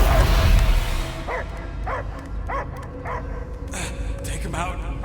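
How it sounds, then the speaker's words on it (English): A dog barks repeatedly, about six short sharp yaps spaced roughly half a second apart, each cutting over a steady background rumble and noise with no clear talk. "I hear only barking."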